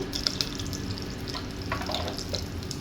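Cumin and spices crackle in hot oil, a quiet, low-level sizzle with scattered small pops and light stirring clinks, and nobody speaking.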